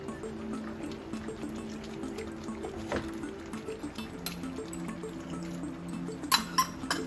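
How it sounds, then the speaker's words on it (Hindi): Boiled spinach water being poured into a simmering spinach gravy, heard as a soft continuous liquid trickle with scattered drips and small splashes, close and fairly quiet. "अब इसको जो हमने ये पानी पालक का उबाल के रखा था इसी को ही डालेंगे हम।"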